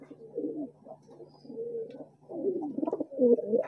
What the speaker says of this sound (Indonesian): merpati mana yang disukai jantan ini